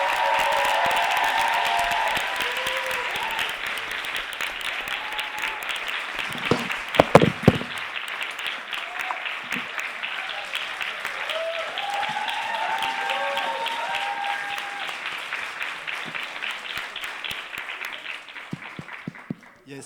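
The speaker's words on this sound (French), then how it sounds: "je vous demande vraiment un tonnerre d'applaudissements pour Kiki" A theatre audience claps for a performer taking the stage, a sustained dense wave of applause that holds steady and fades at the end, with some voices in the crowd.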